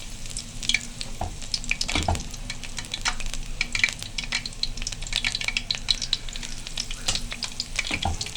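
Cauliflower sizzles and crackles in hot oil in a deep frying pan, a steady close hiss with scattered pops and a couple of louder spatters, and no voices.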